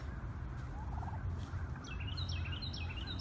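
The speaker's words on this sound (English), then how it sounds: "let these turkeys figure out how to go someplace else." Several turkeys gobble in a rapid, rising series at moderate distance over a steady outdoor background hum, with no voices.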